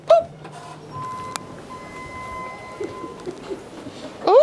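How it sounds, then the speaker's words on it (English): A ThyssenKrupp traditional traction freight elevator, built in 2012 with a 35,000-pound capacity, runs at a natural sciences museum in Raleigh, North Carolina. It gives a steady mechanical whir and hum throughout, with brief tonal sounds at the start and end. "Oops, that's the freight elevator."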